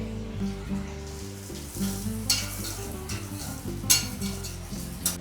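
Garlic and onions fry in a pan with a steady sizzle, along with occasional clinks of a utensil against the pan as the mixture is stirred.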